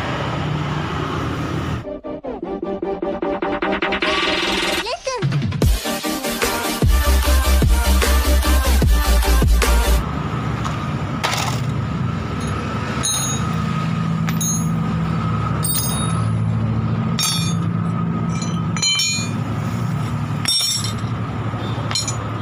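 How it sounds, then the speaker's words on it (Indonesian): Traffic rumbles past a roadside spot where rear brake pads are being replaced on a Yamaha Mio Sporty motorcycle: a heavy vehicle with hissing air brakes and loud engine roar, then steady passing traffic under light metallic clinks of tools. "mungkin suara video saya agak begitu bising soalnya ini kita kerja di pinggir jalan raya ya teman-teman"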